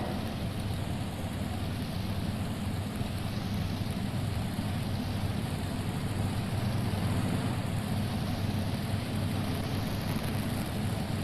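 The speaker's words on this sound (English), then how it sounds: "Those big old Arius engines on board." Big Arias engines of a pulling tractor run steadily at a 1995 farm machinery show, a loud continuous rumble and roar held unbroken throughout, with no voices.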